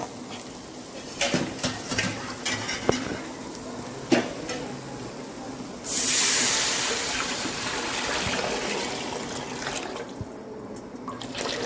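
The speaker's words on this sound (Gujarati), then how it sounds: "આ બધું એકદમ સતળાઈ જાય એટલે એમાં નાખીશું છાશ." Buttermilk poured into a corn dhokla batter mixture, a steady liquid rush that starts about midway and runs to the end, preceded by light clinks of a utensil against a bowl.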